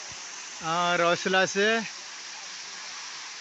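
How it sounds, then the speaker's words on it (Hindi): A waterfall on Hedakhan Road near Haldwani gives a constant, close rush of falling water. A brief spoken phrase is heard over it. "ये झरना है हमारे यहाँ"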